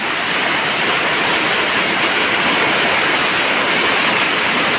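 A downpour lashes a canal-side garden house, giving a thick, unbroken hiss of falling water that stays loud and even, with no voices.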